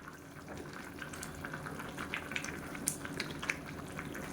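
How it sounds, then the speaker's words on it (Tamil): Rice water for mushroom biryani boiling in a pot: a soft, continuous bubbling simmer with small pops, fairly quiet and close, with no talking. "இப்போ நல்லா கொதிக்க ஆரம்பிச்சிருச்சு"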